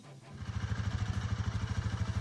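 Royal Enfield Himalayan 450 adventure motorcycle with the Sherpa single-cylinder engine, running with a steady, pulsing low thrum that stays close and fairly loud throughout, no voices over it.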